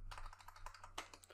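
Brief quick typing on a computer keyboard, a run of about ten light, close key clicks in an uneven rhythm over a low background hum.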